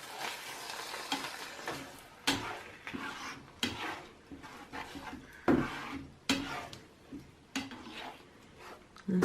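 Eggs scrambling in a pan with cheese and spinach for a Mediterranean breakfast, with a steady soft sizzle and repeated scraping and stirring strokes from a utensil against the pan, plus occasional louder clacks.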